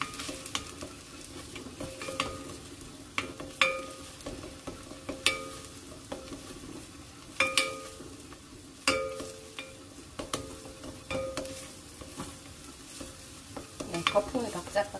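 Garlic and ingredients for a seaweed and mushroom soup stir-fried in a pot, with a steady soft sizzle and repeated scraping, clattering strokes of a spoon across about fifteen seconds, with no talking.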